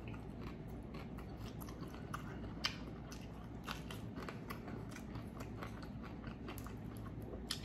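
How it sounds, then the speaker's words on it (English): Someone eats lemon pepper chicken wings close to the mic, with soft crunchy bites and chewing repeated irregularly, faint and intimate with no talking. "let's dig into these wings because I am starving. Okay, this is a lemon pepper."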